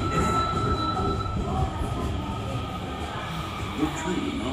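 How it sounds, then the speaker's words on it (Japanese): A subway train on the Osaka Municipal Subway pulls into an underground platform, its steady rumble joined by squealing wheels and a long tonal whine. "The train on platform 2 is bound for 北千里 via 坂井筋の町"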